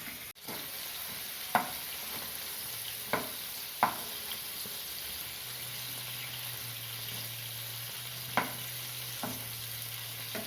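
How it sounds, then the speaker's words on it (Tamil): Brinjal with turmeric sizzles steadily in a hot pan while a spoon scrapes and stirs now and then, with occasional clinks, no voices. "மஞ்சத்தூள் சேர்த்து எல்லாத்துலேயும் படுற மாதிரி வதக்கணும்"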